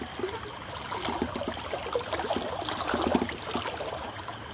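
Fast stream water rushing across a river crossing, a continuous broadband splashing and gurgling flow that fills the scene, steady and close with no voices over it.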